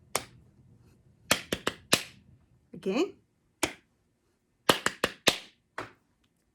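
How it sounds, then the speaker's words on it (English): Sharp hand claps from a student in a music lesson, tapping back a short rhythm in two bursts of quick uneven claps separated by a pause, close and dry, with a brief spoken word between them. "if you could clap this back, please"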